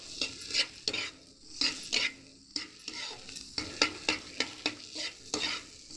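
Stuffed pointed gourd frying in a wok, sizzling under repeated rhythmic scraping stirs from a utensil against the metal, about a dozen strokes, close and without speech.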